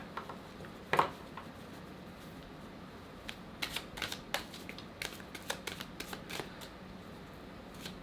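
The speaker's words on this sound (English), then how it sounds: "I never have a problem shuffling this deck." Repeated crisp riffling bursts from a deck of tarot cards being shuffled during a love reading, with a sharper snap near the start and a steady run of quick shuffles later, close and fairly quiet.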